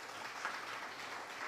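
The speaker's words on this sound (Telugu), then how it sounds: "గట్టిగా చప్పట్లు." Faint, even applause from an audience at a Bible seminar in Kakinada, a brief patter of many hands clapping.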